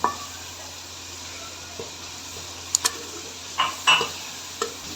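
Tomatoes being cooked in a pot for junglee pulao give a soft low simmer, with occasional sharp scraping and clinking stir strokes against the pot.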